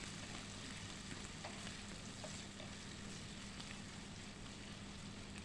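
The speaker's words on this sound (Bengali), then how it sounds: "পেঁয়াজ কুচিটা দিয়ে আবারও মিনিট খানেক একটু নাড়াচাড়া করে নেব।" Chopped onion sizzles and crackles steadily in a hot pan for a chicken dish, with faint scrapes of stirring, a continuous frying hiss with no talk.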